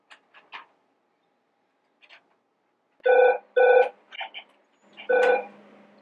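Telephone ringing after dialing: a few faint dial clicks and tones, then bursts of electronic ringing in short repeated pulses, fairly close.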